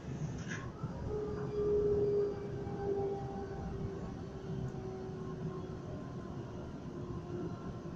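A Sydney commuter train travelling from Kingsgrove toward Sydenham gives a steady low rumble throughout, with a faint, drawn-out tonal whine rising above it for a few seconds early on.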